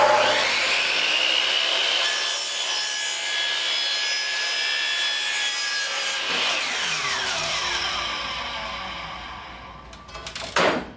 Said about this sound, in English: This, once again, this is a chop saw.